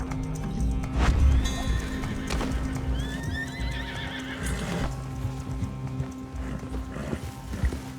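Horse hooves clip-clop steadily while a horse whinnies in a rising, wavering neigh in Red Dead Redemption 2, with other low rumbling game ambience underneath.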